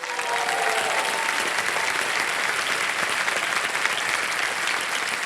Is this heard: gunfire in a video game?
no